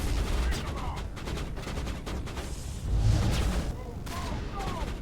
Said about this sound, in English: Shoot him. Someone shoot him.